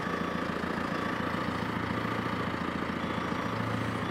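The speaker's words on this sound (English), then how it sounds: "Big old motor." A big old engine idling steadily, a continuous low rumbling drone with an even mechanical chug throughout, close and moderately loud, with no talk over it.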